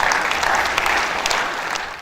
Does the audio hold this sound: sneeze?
no